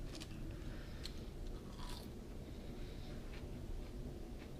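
Crisp fries being bitten and chewed up close, with several sharp crunches over a steady low background hum and no talking.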